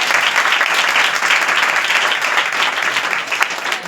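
A church congregation claps together in a dense, loud, sustained burst of applause that holds steady for several seconds with no talk over it.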